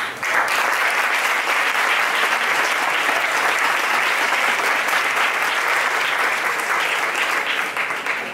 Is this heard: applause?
yes